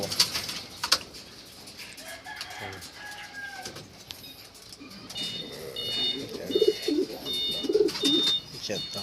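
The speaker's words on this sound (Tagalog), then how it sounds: "Yan na lang yung mga natirang kalapati." A flock of breeder racing pigeons left in a loft, giving low, soft coos that grow clearer in the second half, over steady background noise and faint voices.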